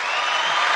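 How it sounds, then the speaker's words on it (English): Audience applause at a talk about starting a photography studio: a dense, steady wash of clapping hands that holds evenly from start to end with no talk over it. "Can we get a round of applause for that?"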